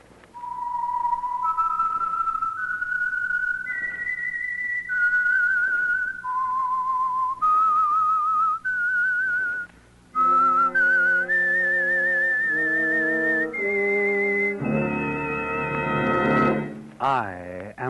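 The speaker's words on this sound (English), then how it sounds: "That whistle is your signal for the Signal Oil Program," A whistled theme tune for the radio drama The Whistler, a slow, eerie melody of long held notes stepping up and down, ending in a loud orchestral chord.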